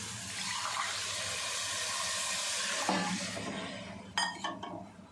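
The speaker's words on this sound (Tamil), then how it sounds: "அரிசி வச்சுருக்கேன், 8 தண்ணி ஊற்றிக்கலாம்." Water pours steadily into a pot of rice in a home kitchen, a continuous close splashing rush that ends with a few clinks of metal.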